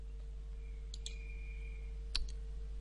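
A few crisp computer mouse clicks open a simulation on bending light, two quick clicks near the start and another pair later, close and quiet over a steady electrical hum.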